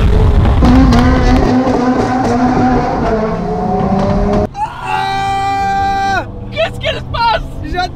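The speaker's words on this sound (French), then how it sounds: "On va voir si on peut entendre cette fameuse Regera." A Koenigsegg Regera supercar drives past at a car event, its engine note rising and falling loudly amid crowd babble, followed by a sharp high-pitched whine as it accelerates away, with people talking nearby.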